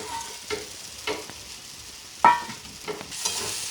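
Small fried chuno fish get stirred into a frying pan, with soft sizzling and a few scattered scrapes and clinks of the spatula, fairly quiet and with no talk.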